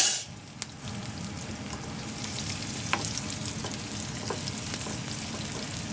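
Continuous crackling sizzle of coconut pieces frying in hot coconut oil for tempering kadala curry, close and steady, with a few sharp pops and stirring clinks and no speech.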